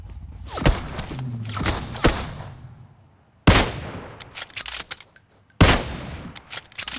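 Shotgun blasts in PUBG Mobile: three sharp, loud booms spaced a couple of seconds apart, each with a quick decay, between quieter footsteps and thumps; no voices.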